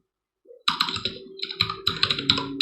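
Fingers type a short command on a computer keyboard, a quick near burst of plastic key clicks and taps running steadily after a brief soft bump, with no talking.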